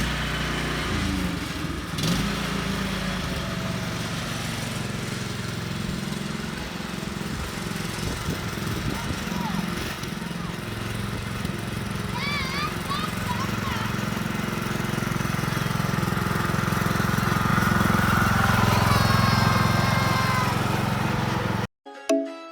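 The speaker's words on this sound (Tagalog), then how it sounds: "Si TJ nagda-drive siya ng yung pang lawn mower." A ride-on lawn mower engine drones steadily while it is driven outdoors, growing louder toward the end before cutting off abruptly, with people talking faintly in the background.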